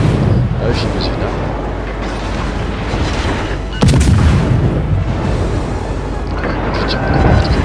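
Heavy naval gunfire in World of Warships, dense rumbling booms throughout with a sharp loud salvo near the middle, continuous battle din and a voice talking over it.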